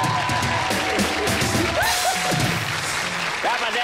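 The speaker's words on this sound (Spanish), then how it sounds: "Un aplauso" Studio audience clapping on a Colombian television comedy talk show, loud and busy at first, with a voice talking and reacting over it as the clapping carries on.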